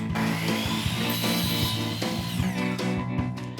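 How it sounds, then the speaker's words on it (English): A miter saw cuts a strip of wood trim for a door makeover, its motor whining loudly and steadily with the blade's grinding bite through the wood, alone and close by. "I'm going to take a few measurements and make short work of it on the miter saw."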